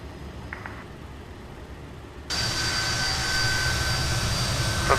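Jet engines of a Just Flight Fokker F28 in Microsoft Flight Simulator spool up for takeoff, a steady rumble that jumps sharply to a loud, sustained roar with a high whine partway through, no talk.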